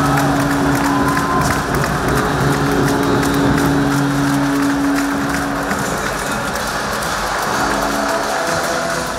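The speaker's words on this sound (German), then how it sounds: "Der Jubel der Eisbärenfans ist noch gar nicht richtig verhallt" Ice hockey fans of the EK Zeller Eisbären in an indoor arena roar and applaud after a goal against HDD SIJ Acroni Jesenice, a dense, loud, steady wall of cheering that slowly fades.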